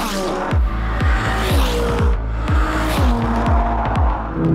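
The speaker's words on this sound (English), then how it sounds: "we all did some laps in our cars to get the hang of things" Exotic cars lapping a steep mountain race track, engines revving hard with repeated rising gear-change sweeps and brief tire squeal, loud and close throughout.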